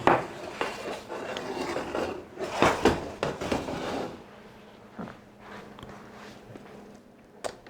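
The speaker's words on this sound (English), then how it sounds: "scraping my fork through here, and these strands of spaghetti squash are peeling away very easily" A fork scrapes through cooked spaghetti squash in a pan, pulling away strands: rough, rasping scrapes in several bursts, louder at first and then softer and sparser, with a few light metallic clicks.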